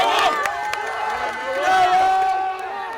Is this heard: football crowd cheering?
yes